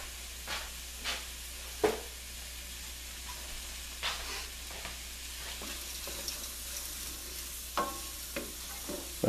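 Arborio rice for a lobster risotto quietly cooking in a pan, a soft low hiss and simmer with occasional light stirring taps and scrapes spaced out over several seconds, no talk.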